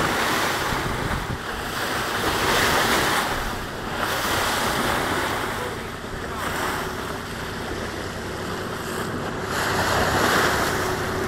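A boat pushes through choppy water near Kenmare, with a continuous rush of waves, spray and gusting wind buffeting the microphone, swelling and easing in slow surges over the whole stretch.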